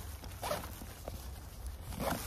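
A backpack is zipped shut in a few faint, brief pulls, with quiet outdoor background and no talking.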